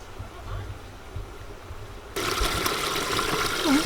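Water from a small mountain spring in the snowy French Alps near Mont Ventoux trickles and gushes continuously, growing louder and closer partway through, with a faint voice at the start.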